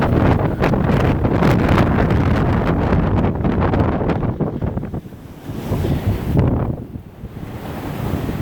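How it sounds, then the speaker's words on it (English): Strong wind gusts roar and buffet the microphone during a passing line of rain showers, loud and continuous, easing briefly before another surge. "those wind gusts with that rain was ridiculous."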